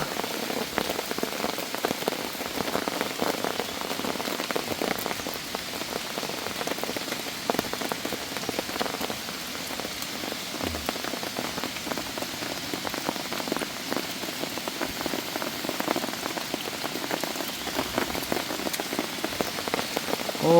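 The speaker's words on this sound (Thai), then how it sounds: "ฝนตกบ่ยุดบ่เสา" Heavy rain pours down steadily in a mountain forest, a dense, continuous patter of drops with no voices.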